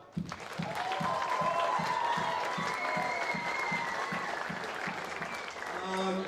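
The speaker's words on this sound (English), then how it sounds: "Let's give a round of applause for that." A round of applause for a senior men's football team after a grand final season, sustained clapping and crowd noise over about six seconds with talk and a steady low thump underneath.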